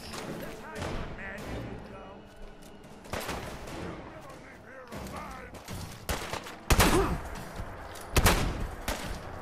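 Shotgun blasts in Fallout 4's Far Harbor, two sharp loud reports late in the stretch over a busy game soundscape with scattered thuds and a voice talking earlier.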